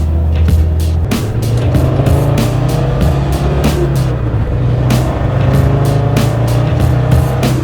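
A tuned Land Rover Defender 90 Td5 diesel with a Falcon hybrid turbo accelerating, a loud, continuous engine roar heard from inside with rising and shifting pitch and no talk.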